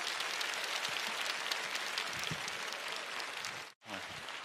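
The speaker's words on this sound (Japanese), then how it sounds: "皆さん大きな拍手を。" Loud, sustained applause from a Japanese pro basketball arena crowd after a B.League game, dense clapping filling the space before dropping out abruptly near the end.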